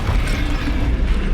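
A Bombarda explosion spell goes off in Hogwarts Legacy on Xbox: a dense, roaring blast with rumbling, mechanical crackle, loud and sustained throughout the short burst.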